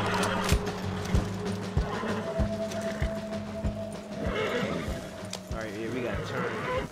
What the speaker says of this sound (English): There's a guy on the horse coming right now.